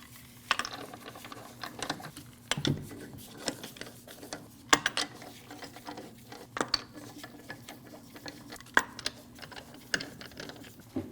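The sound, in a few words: snugging wheel lug nuts on a Honda CR-V with a ratchet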